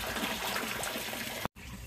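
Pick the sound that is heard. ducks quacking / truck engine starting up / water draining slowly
water draining slowly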